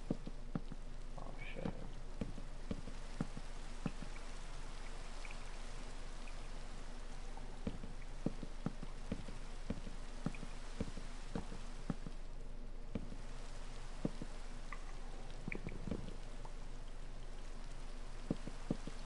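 Steady rain falling in a video game strip-mining session, a constant hiss with scattered drop taps and faint low rumbles, continuous and even throughout without any talk.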